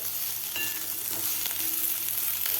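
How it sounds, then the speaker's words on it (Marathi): Eggplant curry being stirred in a steel kadhai: a constant sizzle with scattered sharp scrapes and clinks of the spoon against the metal, alone with no talk. "आता आपण याला एकदा हलवून घेऊया कारण स्टीलची कढई आहेत"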